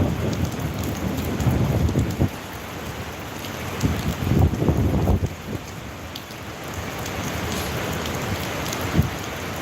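Steady afternoon rain pours down in Papua on a windy day, a dense hiss with heavier gusts and drumming swelling in the first half before settling into an even downpour; no one speaks.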